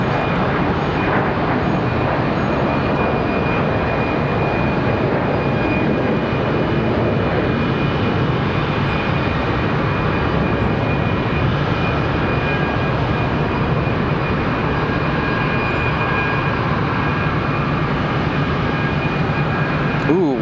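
An airliner passes during plane spotting at Charlotte Douglas International Airport, its broad, steady engine roar filling the whole stretch, loud and continuous throughout.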